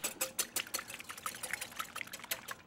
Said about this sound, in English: Now what we want to do is just put an egg in a bowl, whisk that up,